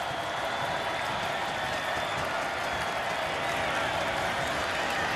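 A record stadium crowd of more than 25,000 roars and cheers at a college football game between Indiana and Western Kentucky, a dense, steady wall of noise with no break.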